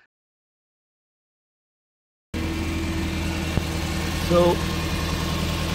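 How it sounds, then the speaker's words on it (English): A Toyota minivan engine idles with its PCV valve pulled, running as a steady, close hum after a stretch of silence. The idle lifts slightly partway through, and a voice speaks briefly over it. "when pulling the PCV, the idle goes up."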